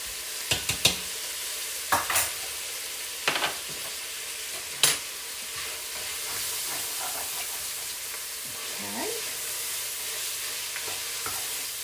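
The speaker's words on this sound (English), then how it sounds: "You know, I love to smell garlic cooking." Minced garlic and onions sizzle steadily in a hot pan, a continuous close hiss with a few louder scraping stirs near the start, no talking over it.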